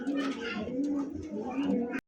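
Pigeons and doves, including a white Australian dove, cooing at a bird seller's with several soft repeated low coos over a steady background, with talk mixed in, ending in a brief silence.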